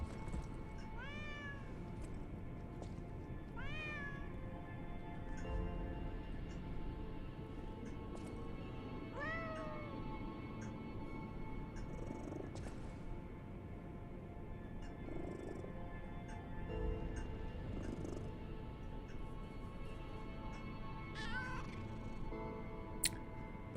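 A cat meows repeatedly in the video game Lies of P, several distinct rising calls spread over a steady game soundtrack and ambient hum, with no talking.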